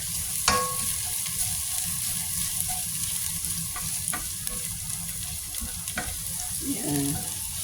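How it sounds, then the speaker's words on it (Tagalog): Garlic stir-frying in a pan, a continuous soft sizzle with scattered sharp clicks and scrapes from stirring, fairly close and with no talking. "Stir fry until golden brown ulit. Ayan. Gusto ko maraming garlic."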